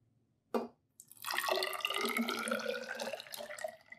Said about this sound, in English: I've got some hot water in here